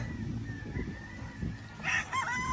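A young rooster, a bull stag, crows once in a short, clear call over a low background murmur.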